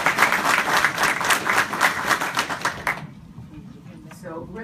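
Audience applause at a congressional forum on Africa's Sahel region, a dense wash of clapping that runs loud for about three seconds, then stops abruptly, leaving quieter room noise.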